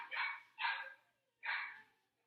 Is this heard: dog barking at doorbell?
yes